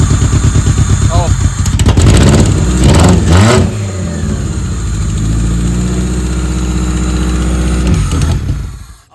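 Demolition derby car engine fires up, cranks and catches with loud, close revving bursts, then settles into a rough, throbbing idle before cutting off at the end.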